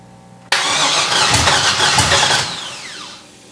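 LS-swapped Chevy S10 V8 cranks hard and catches, a loud broadband roar with a whining squeal for about two seconds before dropping back to a quieter, sputtering idle.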